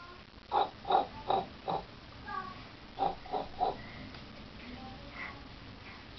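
A voice imitates a pig's oinking, fairly faint: two quick runs of short, rhythmic grunting snorts with a few softer sounds in between.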